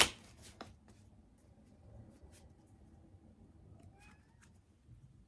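Tarot cards are handled and shuffled at close range, soft quiet riffling and papery slaps scattered over several seconds after a sharp initial clatter, in an otherwise quiet room.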